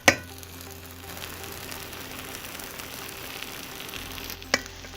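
Garlic sizzles in a hot pan for sweet potato soup, a steady, even hiss of frying with a sharp clatter at the start and near the end, no voices.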